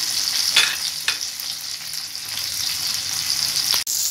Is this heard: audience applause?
no